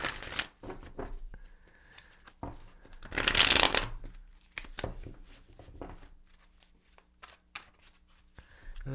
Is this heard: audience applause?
no